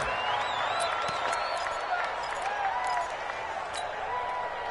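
Crowd noise from a Giants American football video game on PS4: a steady roar of cheering and applause with whistle-like tones, loud and continuous throughout, dipping slightly near the end.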